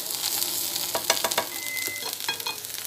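Carrots for a lasagna sauce tipped into a hot pan, setting off a soft sizzle with a few clattering knocks and stirring sounds, close by, with no speech.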